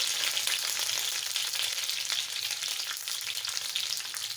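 Whole spices, two bay leaves, two cinnamon pieces and two cardamom pods, sizzle in hot oil in a wok while cooking spicy chicken, a steady close, bright hiss and crackle with no voice over it.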